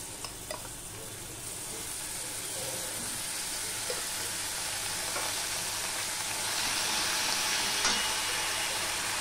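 Ginger fries in oil with salt and turmeric in a pan, making a steady, fairly quiet sizzling hiss that swells slightly toward the end, with only an occasional faint stirring tap.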